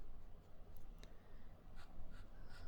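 Extra-fine nib of a Pilot Volex K5117 fountain pen writing on paper, faint close scratchy strokes in short bursts against a low background hum.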